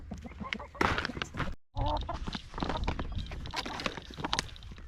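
Chickens and a large rooster clucking close by on a small egg farm, a steady run of busy calls with one brief silent gap partway through.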